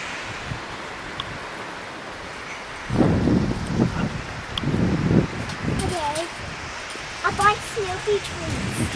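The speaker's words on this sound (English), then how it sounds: "It's the wind." Strong wind buffets the microphone outdoors on a blustery day near home wind turbines, rising in loud rushing gusts after a quieter start, with a voice speaking over it.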